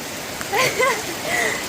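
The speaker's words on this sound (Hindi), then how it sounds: "कितनी अच्छी बारिश आ गई भाई" Steady rain hiss fills the background while a voice talks briefly over it.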